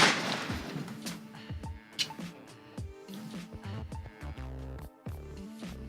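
Shotgun blasts at clay targets in a skeet competition final, a series of sharp reports spaced through the stretch, ringing against a busy background with some echo.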